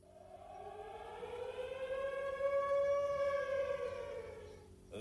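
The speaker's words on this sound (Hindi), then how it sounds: "इजराइल में यदि तुम्हारे क्षेत्र में भूकंप आता है तो एक आवाजी चेतावनी सायरन भी दी जाती है" An Israeli earthquake warning siren sounds alone, a single long wail that rises, holds for a few seconds and then falls away, with a faint click at the very end.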